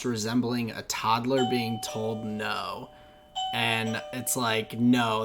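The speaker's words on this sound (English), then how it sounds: "Sorry for the doorbell" A doorbell chimes partway through a podcast recording, with steady tones held under continuous conversation as the hosts keep talking over it.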